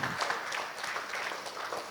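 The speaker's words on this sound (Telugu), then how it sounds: "గట్టిగా చప్పట్లు కొడదామండి" A crowd at a retirement function in Ongole claps, giving soft, diffuse applause that sounds distant and faint and carries on evenly for a couple of seconds.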